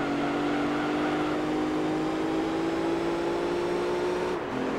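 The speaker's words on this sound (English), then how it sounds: "Why do I keep downshifting there?" A racing car engine in Gran Turismo 3 on PS2 holds a steady high drone with a slowly rising pitch, then drops abruptly near the end as it shifts down, loud and constant with no talk.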